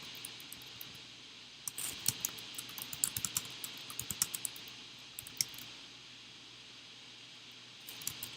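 Keystrokes on a computer keyboard typing an image caption, light irregular clicking in bursts, close and fairly quiet, with no talking.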